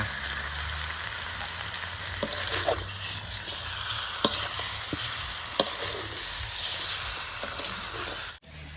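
Catfish caught on a line, stir-fried with chilli in a pan over a gentle flame, gives a steady broad sizzle with scattered clicks of a utensil scraping the pan, continuous and fairly close, with no talking.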